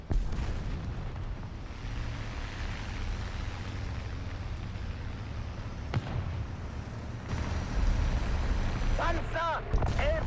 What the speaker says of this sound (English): Artillerieschlag auf Koordinaten!